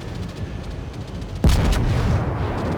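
A battleship's main guns fire a single volley in World of Warships, one sudden heavy boom that rumbles on over steady engine and sea ambience.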